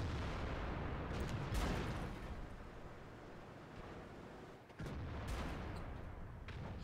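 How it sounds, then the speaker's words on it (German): A Chinese WZ-111 model 1-4 heavy tank in World of Tanks fires premium rounds: deep booming cannon shots over a dense, continuous rumble of battle, with a heavy report near the start and another partway through. "Er schießt jetzt auch Premium, dass er da gut durchkommt."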